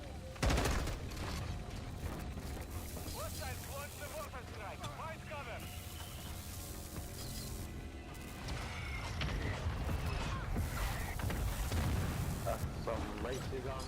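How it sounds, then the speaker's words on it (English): Sustained gunfire from a teammate in the video game MWII, dense rapid shots and booms filling the whole stretch, with voices talking over the battle. "Why is my teammate shooting at me?"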